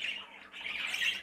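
Pet birds squawk in short, sharp, bright calls close by, a few overlapping bursts in quick succession, fairly loud with no talk over them.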